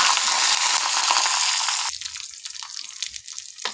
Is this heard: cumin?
yes